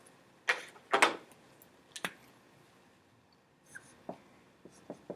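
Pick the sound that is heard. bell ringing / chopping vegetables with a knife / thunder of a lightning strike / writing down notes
writing down notes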